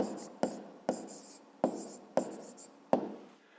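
A pen writes an answer on paper by hand in about six quick, crisp scratching strokes with short pauses between them, close and quiet with no talking.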